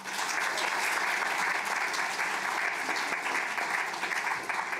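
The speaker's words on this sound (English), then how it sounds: "Please join me in giving one more big round of applause to our new cohort of Fellows." A large audience applauds steadily for a newly introduced cohort of LSX Fellows at a formal introduction event, the clapping dense, even and sustained throughout with no voices over it.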